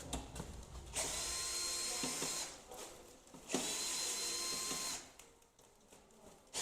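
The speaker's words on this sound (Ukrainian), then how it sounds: "Тут у нас три болта, приступаємо, відкручуємо." Two long whirring bursts of a power driver loosen the three bolts on the backrest of a Titan electric scooter. Each burst runs about one and a half seconds with clicks and handling noise between, close and fairly loud.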